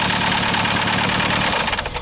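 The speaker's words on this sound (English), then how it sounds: "I got the car started, but it was running dreadfully." A car engine with a broken oil pump runs roughly and unevenly, a steady close rumble with sputtering irregularity toward the end.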